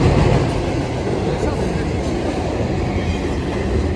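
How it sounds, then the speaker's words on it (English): Train passing overhead as the car drives beneath the rail line in the Columbia River Gorge, a loud continuous rumble with rhythmic rail clatter, steady throughout. "We're about to cross under a train."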